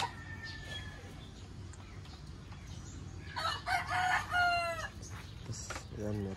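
A fighting cock crows midway through, a loud, harmonic crowing call standing out over steady background noise, with a clucking fowl and faint bird sounds nearby.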